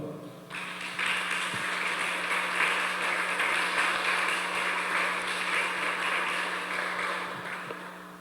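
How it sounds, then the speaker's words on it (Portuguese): A church congregation at a celebration service applauds together, a broad sustained wash of clapping from many hands that swells in and holds steadily for several seconds over a low sustained instrumental tone, with little talk. "Dá um aplauso ao Senhor."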